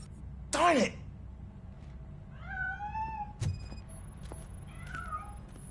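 A cat escaping in the video game RoboCop: Rogue City gives a sharp, loud meow, then softer drawn-out mews and a thunk over low game ambience. A voice is faintly present.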